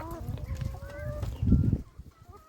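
Chickens and a white rooster cluck and murmur close by in a farmyard flock, with a short louder burst of low clucking near the end.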